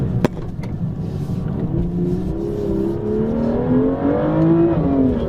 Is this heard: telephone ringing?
no